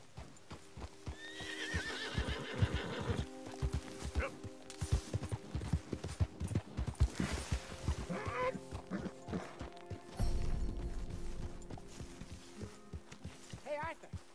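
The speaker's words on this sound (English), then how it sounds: "what's that horse doing in here?" Horse hooves clip-clop at an uneven, stepping rhythm inside a Red Dead Redemption 2 scene, joined by a short whinny early on, with game voices and effects mixed in.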